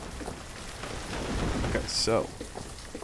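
Steady rain hisses with faint rumbles of thunder in Banished, a town-building survival video game, while someone talks briefly over the downpour.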